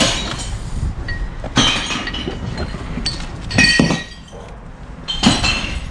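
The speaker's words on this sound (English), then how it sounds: "So we are going to throw the glasses now" Clear glass bottles tossed into a UK recycling bin, a series of loud clinks and crashing glass impacts at irregular intervals, each followed by rattling shards settling, close by with no talk.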